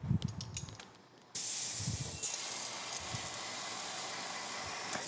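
A window tint spray bottle fitted with a fan tip starts with a sudden loud hiss and then keeps spraying steadily and close up, after a few soft handling knocks at the start.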